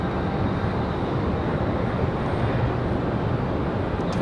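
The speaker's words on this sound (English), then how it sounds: "Early rotation for this Exec jet." Business jet rotating and climbing off the runway at Raleigh-Durham International Airport, a steady broadband engine roar that holds loud and even throughout with no voices.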